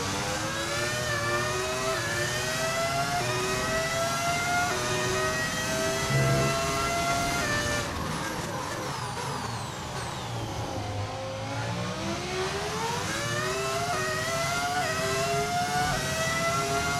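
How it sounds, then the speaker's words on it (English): Screaming V10 race car engine in the F1 25 video game, a continuous high-pitched wail with rising and falling revs through gear changes, loud and steady for the whole stretch with no talking. "V10 engine sounds so good, man."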